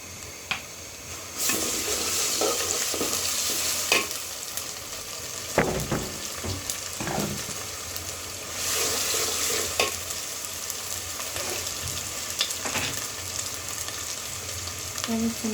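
Ginger paste sizzles and fries in a hot pan for khichuri bhuna, with a steady crackling hiss and intermittent scraping as it is stirred, close and continuous throughout.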